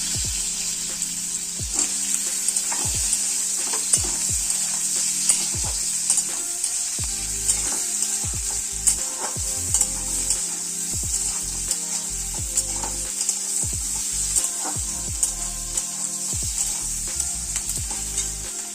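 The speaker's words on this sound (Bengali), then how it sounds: "হালকা লাল করে পেঁয়াজটা ভেজে তারপর আমাদের সিদ্ধ করে রাখা আলুটা দিয়ে দিলাম।" Boiled potatoes fry with lightly browned onions in a pan for egg curry, a steady loud sizzle broken by repeated scraping stirs close by.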